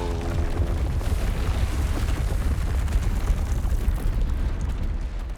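A Depulso force spell blasts in Hogwarts Legacy, producing a dense, rumbling, explosive roar that holds steady and loud for several seconds with no pause.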